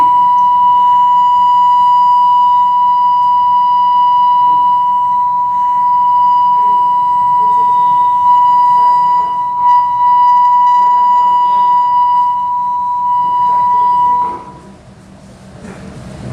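A steady, high-pitched siren tone rings at a press conference, holding one pitch for about fourteen seconds over a faint murmur of voices before cutting off abruptly.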